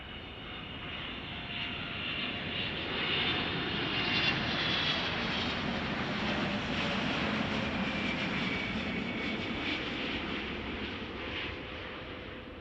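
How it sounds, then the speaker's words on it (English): A United Boeing 777 at Chicago O'Hare airport, a broad, steady jet engine roar and whine that builds gradually, holds loud and full for several seconds, then eases slightly, with no talking over it. "We'll get to see that United 777 land, or at least taxi."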